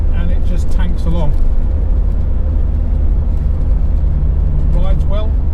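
Land Rover Discovery 300Tdi Camel Trophy car driving on a road gives a steady low diesel drone and road rumble inside the cabin, while a person talks over it.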